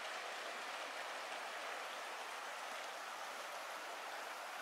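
A river rushing over rocks at a trail crossing in the Cohutta Wilderness along the Jacks River, a steady, loud broadband wash of flowing water throughout with no talk.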